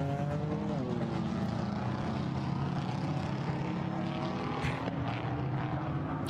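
GT4 race cars pour out onto the Nürburgring circuit during qualifying, a continuous layered engine drone with rising and falling pitches from several cars at moderate distance, steady in level.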